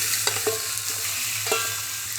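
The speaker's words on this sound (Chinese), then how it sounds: "五花肉再进锅" Pork belly hits a smoking, oiled wok and sizzles loudly, with a few metallic clinks and scrapes of stirring over a constant frying hiss and low hum.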